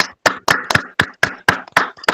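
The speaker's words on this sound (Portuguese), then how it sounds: "Vou pedir a todos que liguem os microfones para dar uma grande salva de palmas" Short sharp claps from an audience at a live presentation, sounding as a run of distinct, fairly loud hand strikes spaced about a quarter second apart rather than a dense roar.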